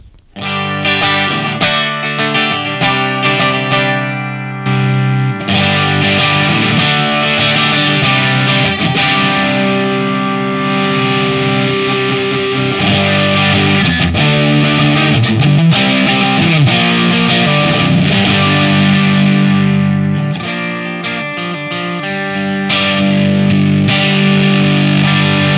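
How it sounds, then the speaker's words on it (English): A heavily distorted electric guitar, a Stratocaster through a Free the Tone Iron Forest distortion pedal, plays sustained chords and riffs, loud and thick with saturated crunch, ringing continuously without any talking. "Free the Tone Iron Forest Distortion."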